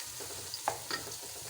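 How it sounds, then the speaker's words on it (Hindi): Onions fry in a pan on the way to browning for beef macaroni, a soft continuous sizzle with a couple of faint utensil scrapes, quiet and without talking. "दूसरी तरफ हमने प्याज ब्राउन होने के लिए रख दिया है।"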